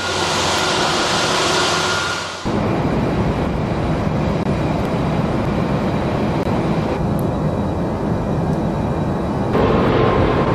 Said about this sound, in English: and I'm just going to watch the planes take off here.